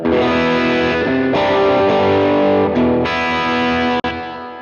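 An electric guitar plays through an overdrive patch on a Line 6 Helix or HX Stomp, sustained crunchy chords ringing out loud and continuous with a brief gap near the end.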